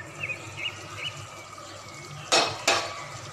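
A metal lid clanks off a pot of steamed fish, two sharp close metallic knocks after faint clinks of utensils in a quiet kitchen.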